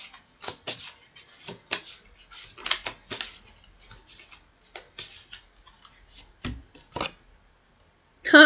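Oracle-style life purpose cards are handled and shuffled close up, giving a run of soft, irregular papery flicks and slaps that come and go.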